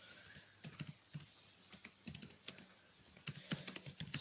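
Quiet keyboard typing in irregular bursts of light clicks, close by and fairly soft, with short pauses between runs of keystrokes and no talking.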